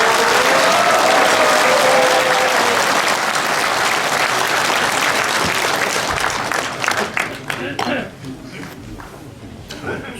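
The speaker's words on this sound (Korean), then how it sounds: "우리 큰 뜨거운 애국의 함성과 박수로서 청하시기 바랍니다." A lecture audience applauds and cheers to welcome a speaker, dense sustained clapping with a few raised voices that thins to scattered claps and fades near the end.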